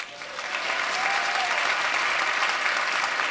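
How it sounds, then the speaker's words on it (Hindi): A crowd at a retirement celebration applauds a couple, the clapping swelling after a brief softer start and holding as a dense, steady roar. "उनके लिए तालियां होनी चाहिए।"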